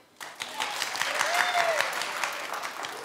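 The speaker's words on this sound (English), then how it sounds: "Clap if you approve." A television studio audience claps enthusiastically, the applause swelling in after a brief pause and staying loud and dense, with a faint whoop or cheer rising in the middle.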